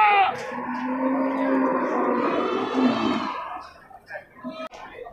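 A jumbo billy goat offered as a sacrificial animal at a market lets out a long, deep, wavering bleat lasting about three seconds, loud and close, followed by scattered nearby bustle and short noises.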